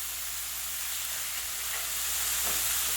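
Tomatoes and garlic added to a hot gumbo pan with chicken and andouille sausage, a loud continuous hiss of sizzling that swells slightly near the end, close and with no talk.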